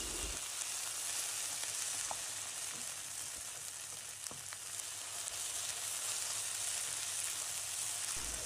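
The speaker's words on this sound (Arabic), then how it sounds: "وهقلب البصل كويس" Onions frying with tomato paste and garlic in a pan, a dense continuous close sizzle with occasional faint stirring clicks.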